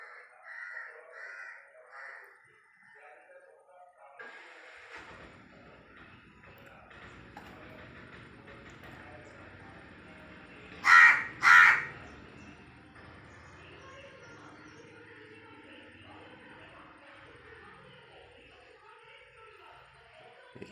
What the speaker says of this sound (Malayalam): ഈ കാക്ക വർഷങ്ങളായിട്ട് നമ്മളെ കൂടെ ഉള്ളൊരു കാക്കയാണ്.